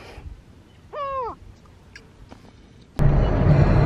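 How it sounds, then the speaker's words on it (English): A single harsh seagull call rings out over a half-empty beach, brief and fairly close, followed after a quiet stretch by a sudden loud rush of wind or surf noise. "Just listen to the birds."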